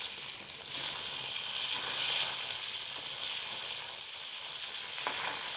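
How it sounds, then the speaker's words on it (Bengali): Fish sizzles steadily in hot oil in a wok after being flipped, a continuous broadband crackle and hiss close by, with a slight swell partway through and no talking. "এখন মাছ ভাজাটা এক সাইড হয়ে গেছে"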